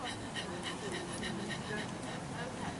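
A person breathing in quick, rhythmic puppy-like panting during a stress-reduction breathing exercise, a voice imitating a dog's pant with short, regular breathy bursts, close and steady throughout.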